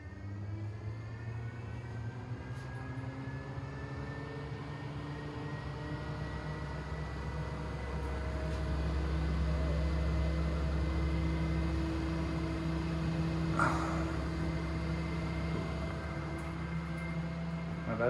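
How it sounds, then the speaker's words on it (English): A continuous droning whir of a solar-powered ventilation fan pumping air in a shipping container, with a steady tonal hum that swells slightly in the middle, like rushing air, no voices. "we have air pumping in, and then I can switch it down and it will pump air out."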